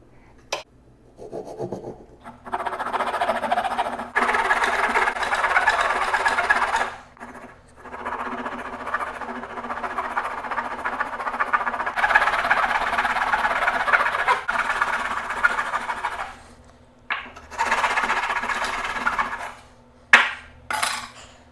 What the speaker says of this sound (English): You can use a handsaw for this, or you can use a bandsaw